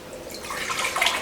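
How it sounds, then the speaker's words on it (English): Cider vinegar poured into a cooking pot for homemade ketchup, a brief soft splashing trickle that builds over about a second. "we're going to put 3 cups of cider vinegar in our pot"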